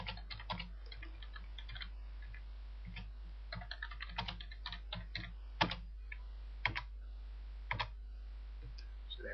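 Bursts of quick keystrokes on a computer keyboard, irregular clicking clusters separated by short pauses, close and fairly quiet.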